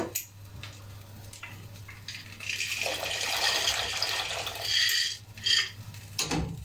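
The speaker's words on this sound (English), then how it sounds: "now I'm going to put my pasta in to cook" Dry penne pasta is tipped into a pot of water to cook, giving a soft, scattered rattle and a watery splash at moderate distance, with a few sharper clinks toward the end.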